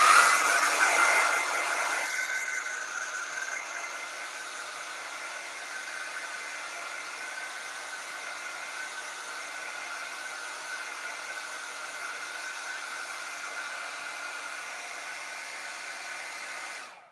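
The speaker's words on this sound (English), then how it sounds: "I usually cannot run a blow dryer and a little heater at the same time" A blow dryer runs steadily indoors, a loud broadband whoosh and motor whine that starts stronger for a couple of seconds, settles into an even roar, then cuts off at the end.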